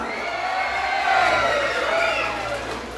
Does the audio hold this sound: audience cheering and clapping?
yes